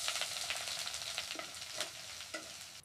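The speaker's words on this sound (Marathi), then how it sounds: "त्याच तेलात मोहरी, कढीपत्ता, बारीक केलेला कांदा व मिरची घालूया।" Mustard seeds, curry leaves, chopped onion and chilli fry in hot oil for kande pohe, a close, continuous sizzle broken by several sharp scraping stirs and popping crackles.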